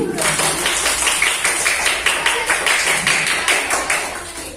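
Steady applause fills a classroom for a presenting group, many hands clapping in a rhythmic, fairly loud patter that holds, with a voice briefly underneath.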